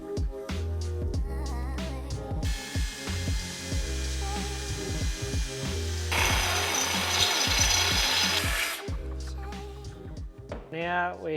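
A power drill bores a grub screw hole into a metal catch latch for a boat launch and retrieve system in a shed. Two sustained drilling bursts sound close and loud, with ratcheting mechanical clicks and a voice talking around them.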